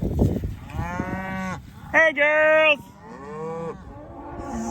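Several cattle moo in loud, drawn-out calls, one after another across the stretch on a ranch, with a person briefly calling out to the cows near the start.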